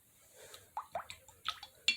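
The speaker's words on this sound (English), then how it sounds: "Okay, so I rinse my brush," A watercolor paintbrush is swished and tapped in a water jar, producing a string of small wet plinks and drips, close and quiet, spaced irregularly with no talking.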